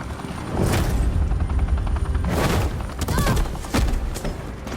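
Police gunfire in Batman: The Enemy Within, heard as scattered loud shots and booming impacts over a rumbling background, with a few sharp bursts close by.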